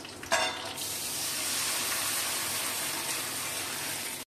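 Milk poured into a hot pan with swelling raisins lets out a sudden splash and then a steady, even sizzling hiss that continues close and unbroken until it cuts off abruptly, with no talk.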